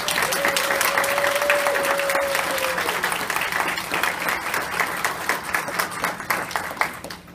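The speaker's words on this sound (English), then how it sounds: "Can we give them a round of applause?" Steady, dense applause from a large crowd at a children's play, loud and sustained throughout, with a faint tone briefly sounding early on before the clapping thins slightly toward the end.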